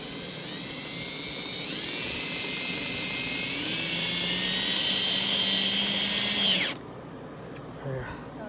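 A power drill runs continuously during an RV awning installation, its whine rising steadily in pitch under load for several seconds before abruptly stopping, leaving quiet handling noises.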